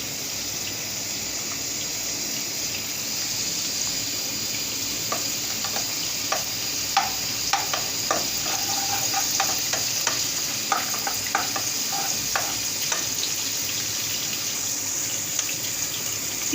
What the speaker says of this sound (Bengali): এটা আমি সামান্য পরিমাণ ভেজে নেব।